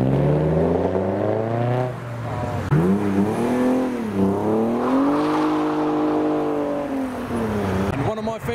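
Custom cars pull away hard from a car meet, an Audi among them, engines rising and falling in pitch through revving gear changes, loud and close, with someone commentating over the noise.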